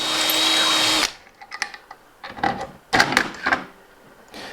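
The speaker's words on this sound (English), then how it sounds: "So I'm just going to widen this hole out a little bit just using a drill." A power drill widens a hole in a metal bracket, a loud steady whine for about a second, then several short, uneven bursts of drilling and scraping separated by quiet gaps.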